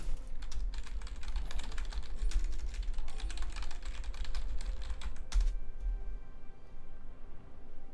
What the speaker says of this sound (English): I am literally typing it in all caps.